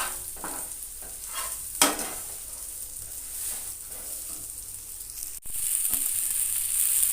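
Soybean balls fry in oil in a pan over a gas flame, giving a steady close sizzle with faint stirring scrapes and a brief clatter partway through, no voices.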